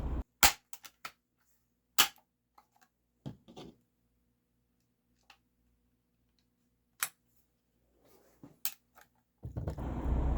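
A Daisy SG22 air rifle fired with Beeman Silver Bear 12.65-grain lead pellets, sharp isolated cracks spaced seconds apart with faint clicks and handling noises between them, ending in a rising rustle.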